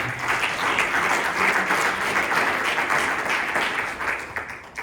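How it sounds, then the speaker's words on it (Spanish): A church congregation at a Spanish-language Bible study applauds steadily, a dense, continuous wash of clapping that holds at a fairly even level for about five seconds, with no voices standing out. "Regalen una ofrenda de palmas al Señor."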